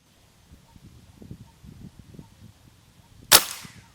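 A single sharp, loud report from a Predator 500cc PCP air rifle fired at a target, close by, following quiet handling and rustling sounds.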